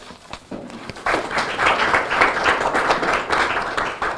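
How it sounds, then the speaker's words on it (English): Audience applause for the Mayor at a Camden community benefit agreement press event, a dense wash of many hands clapping that swells in after a second and holds steady and fairly loud, with no talk over it. "Please give the Mayor another round of applause"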